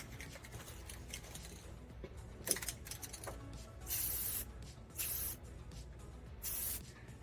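Spray paint misted from an aerophone can onto a Suzuki Samurai part, three steady hissing bursts of a second or so each, close and moderately loud, with a few small handling clicks before them.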